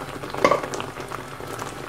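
Spice masala sizzling and frying in a pan for butter chicken, a steady soft crackle throughout with a brief louder stir around the middle, no talk.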